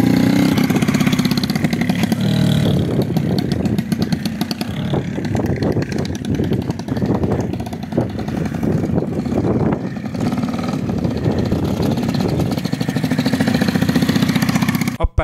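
A homemade wooden motorcycle's engine runs on its first gentle test ride, close and loud. A steady mid-pitched putter rises and falls with mild revving. Voices or wind noise blend in.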